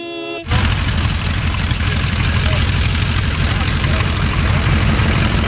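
An aircraft engine idles in a video game, its steady, loud drone kicking in abruptly after a brief moment and holding an even, unbroken hum throughout.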